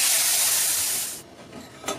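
A loud, broad sizzling hiss of hot spiced-oil tempering poured into kadhi fades out after about a second, followed by quiet stirring and a soft clink.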